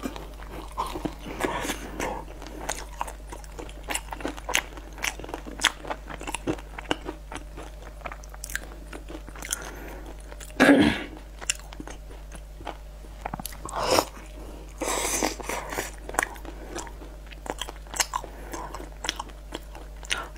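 Close, crunchy chewing of food filled with meat floss, soft bites and mouth sounds repeating steadily through, with a louder crunch near the middle.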